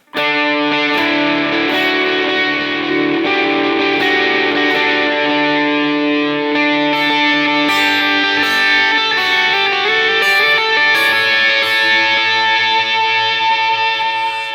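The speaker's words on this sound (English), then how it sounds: "Can you hear the tail end of that note being distorted?" Overdriven electric guitar through a Line 6 HX Stomp plays a flowing melodic line, each note echoed by a delay so the gritty repeats overlap into a dense, continuous tail.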